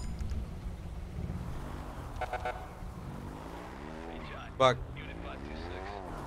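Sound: police motorcycle engine in GTA 5 (video game)

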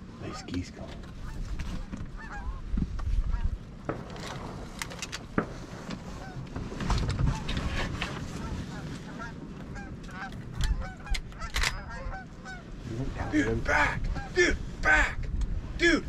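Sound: geese honking during a duck hunt

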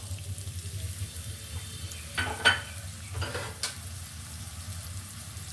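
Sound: chopped onion frying in hot oil

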